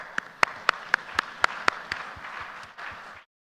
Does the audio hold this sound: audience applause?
yes